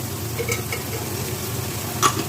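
Afghani mutton pulao being stirred in a pot as raisins and peeled almonds are mixed in, giving a soft continuous sizzle with light scraping and one brief utensil clink near the end.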